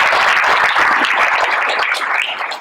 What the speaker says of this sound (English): That's a big round of applause for the Clay Education.